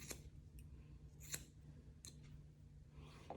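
Hair scissors snip during a haircut, trimming a client's perimeter line. Several quiet, sharp metallic snips come close together and at irregular intervals, with no talk.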